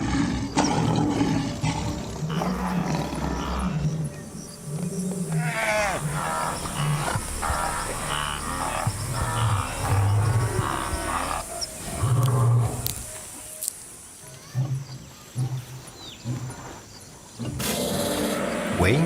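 A maned lion gives deep, vicious roars, several loud rumbling calls in a row with some background noise and faint narration in places.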